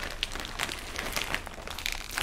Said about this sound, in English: Let's rip this open.